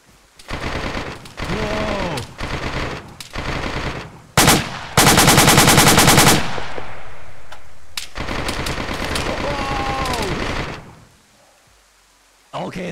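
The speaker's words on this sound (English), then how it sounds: "Okay, that's a big gun." Machine gun fire in the DayZ video game, with several loud rapid bursts and one long sustained volley, close and harsh, separated by brief pauses, and people talk over parts of it.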